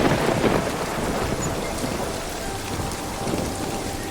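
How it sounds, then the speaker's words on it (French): Heavy rain pours steadily in a thunderstorm, with thunder rumbling low beneath the dense hiss of rainfall; continuous and loud throughout, no voices. "tandis que le tonnerre gronda d'une manière assourdissante"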